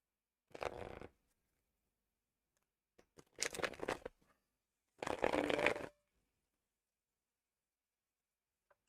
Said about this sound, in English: let me shuffle the cards and see what we have